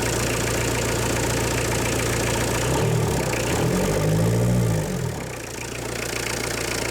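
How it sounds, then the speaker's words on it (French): A diesel engine idling while EGR cleaner is sprayed into the intake manifold, a steady rumble that rises in revs with a rough, knocking tone for a couple of seconds, then drops back to idle. "Pendant la pulvérisation, les tours peuvent augmenter ou diminuer et l'on peut parfois entendre le cognement du moteur diesel."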